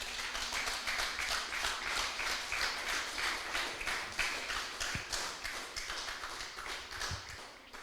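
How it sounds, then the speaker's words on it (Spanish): A church congregation applauding, dense sustained clapping from many hands that fills the room evenly and steadily, with no voices over it. "Den un fuerte aplauso al Rey, aleluya."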